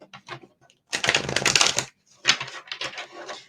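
Several decks of cards being shuffled by hand, with a few short riffles followed by two longer bursts of rapid card flutter, close and fairly loud, with no talking.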